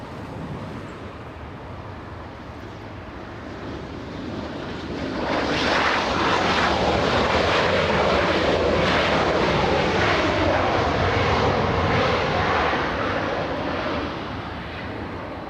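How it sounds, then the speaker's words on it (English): A SkyWest CRJ 700 regional jet landing at Los Angeles International Airport, its engine roar swelling loudly about five seconds in, holding broad and steady, then easing slightly toward the end, with no voices. "Coming in, we have SkyWest 5312 flying in from Aspen, Colorado, a CRJ 700"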